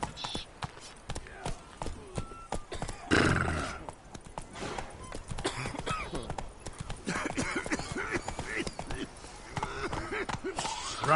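Roach the horse galloping in The Witcher 3: Blood and Wine, with rapid hoof clip-clops and a loud whinny near the start, then steady hoofbeats mixed with other game sounds.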